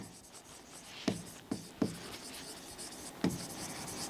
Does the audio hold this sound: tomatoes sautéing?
no